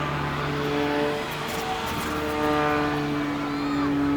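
A radio-controlled Yak 54 scale model airplane flying an inverted spin at an air festival display, a continuous buzzing engine drone with shifting pitch, fairly loud and steady, with faint background voices.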